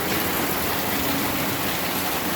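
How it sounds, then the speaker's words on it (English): Heavy rain pours down in a steady, dense downpour during a July thunderstorm, a continuous loud hiss of water on the ground and surfaces with no break. "We had a deluge of rain."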